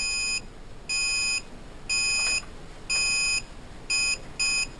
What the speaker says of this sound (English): I wait until it beeps 4 times, then it starts going quick